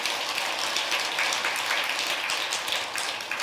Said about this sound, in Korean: 박수 한번 해드리세요.